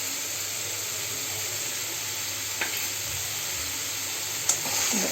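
Masala spice paste frying in oil in a kadai, a steady close sizzle with a couple of brief stirring clinks near the end, no talking.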